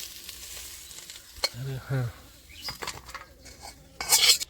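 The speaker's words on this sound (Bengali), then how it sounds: "এই আলু আর এই শাকের ডাঁটা আমার ভাজা হয়ে গেছে, আমি ঢেলে নিচ্ছি।" Fried potatoes and greens stalks crackle in hot oil as they are stirred and poured out of the pan, with scraping utensils, metal clinks and a brief sharp rattle at the end.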